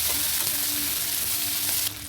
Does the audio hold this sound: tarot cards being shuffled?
no